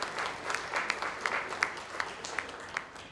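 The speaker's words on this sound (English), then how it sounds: "Ladies and gentlemen, a big round of applause for Mr." Conference audience at the AIMA World Marketing Congress 2015 applauds a session speaker: a continuous, moderately distant round of clapping with distinct individual claps standing out over the steady patter.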